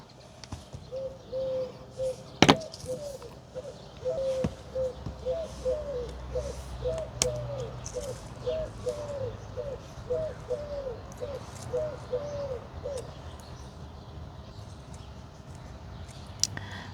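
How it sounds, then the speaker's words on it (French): Repeated soft cooing bird calls in the evening, in a steady rhythm over a low outdoor rumble, with a few sharp chirps and clicks scattered through. "Je pense que vous entendez le concerto des oiseaux ce soir."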